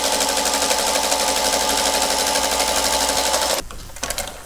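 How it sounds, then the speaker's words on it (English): A sewing machine chain stitching quarter-inch seams on quilt block pieces runs in a steady, rapid mechanical whir, loud and close, then stops abruptly near the end, leaving faint handling clicks. "So I finished chain stitching,"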